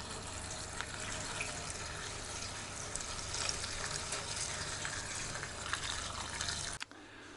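Engine oil pours into a REDVERG RD-G3900N home generator as a steady, faint liquid trickle that runs continuously and then stops abruptly near the end, with no talking.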